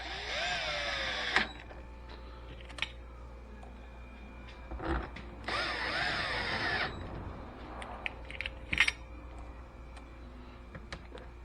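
A power drill drives screws on a Champion 2000 watt generator, whirring in two bursts about a second long each, close by, with clicks and light handling noises between them.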